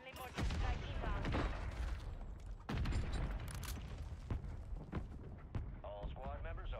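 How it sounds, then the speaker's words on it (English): Mortar strike in the video game Call of Duty Warzone, a run of heavy booming blasts landing at irregular intervals, loud and close, with voices talking between and over the explosions. "Friendly mortar strike inbound."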